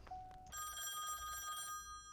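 A telephone ringing sound cue plays back from sound software: a short opening chirp, then a bright, sustained electronic bell ring that stops abruptly, close and clear with no talking over it.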